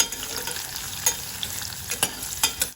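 Onions frying and being stirred in a pan for Hyderabad kuska, a close, continuous sizzle broken by sharp scrapes of the spoon at irregular intervals.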